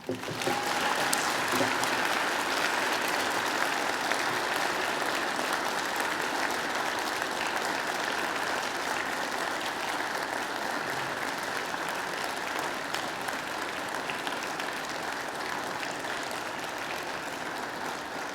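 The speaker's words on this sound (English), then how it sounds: "And now I invite you to give them a mighty round of applause." Sustained, dense applause from a large graduation ceremony crowd at Macquarie, holding steady and loud throughout, with no speech over it.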